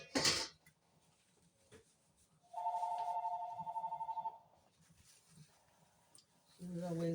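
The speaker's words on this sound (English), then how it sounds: "As always the case, you get a phone call" A telephone rings in a kitchen where rice is simmering on the stove, one sustained electronic ring lasting nearly two seconds, framed by clattering and a voice before and after.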